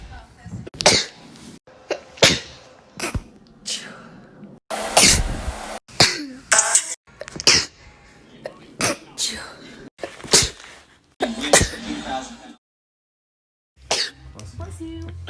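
A series of sharp human sneezes with coughs and throat clearing, loud and close, separated by brief pauses and short spoken remarks, with a silent gap near the end.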